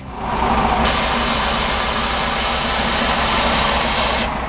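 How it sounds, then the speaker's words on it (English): A loud, sustained hiss of air escaping from a bus's air suspension bellows, starting abruptly and running steadily for several seconds over a low engine hum. "Did you hear the sound the bellows made as the air came out?"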